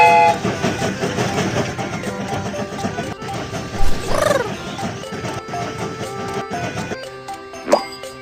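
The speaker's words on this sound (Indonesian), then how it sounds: "Kereta ini akan segera berangkat." A cartoonish train in a Babybus children's cartoon chugging along with bright music, a whistle-like squeal and playful pops, moving steadily as it pulls away.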